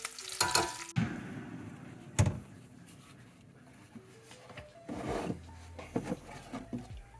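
Bacon frying in its own grease for a breakfast croissant, with soft crackling and spitting around scraping and handling noises. The sounds are fairly quiet and come in uneven bursts.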